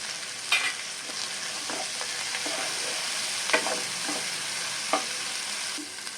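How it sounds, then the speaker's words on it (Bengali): Masala spice paste with turmeric frying in oil, a soft steady sizzle at low volume with occasional stirring scrapes and light clicks of a spoon. "আমার মশলাটা কষানো হয়ে গেছে মশলা তেল ছেড়ে দিচ্ছি হলুদ দিয়ে দিলাম"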